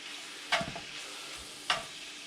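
Baked beans cook in a small cast iron skillet, a steady close sizzle broken twice by brief scraping stirs of a utensil against the pan.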